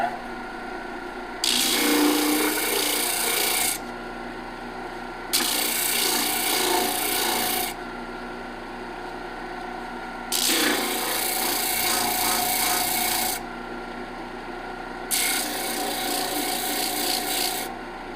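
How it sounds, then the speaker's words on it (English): A scrap piece of wood is sanded flat, likely on a power sander, in four bursts of broadband rubbing hiss, each a few seconds long with steady machine hum in the gaps, close and fairly loud. "I'm going to sand this flat"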